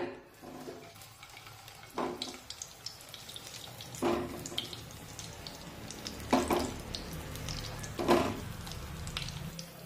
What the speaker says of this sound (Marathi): मंद आचेवर ही वांगी या तेलामध्ये सोडूया